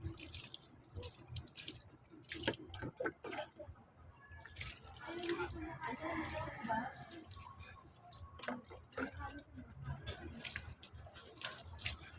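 Tap water runs steadily into a sink or tub during a quick bath, with intermittent splashing and dripping close by, while people talk over it.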